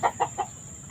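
A fighting rooster gives three quick, short clucking calls at close range, then falls quiet.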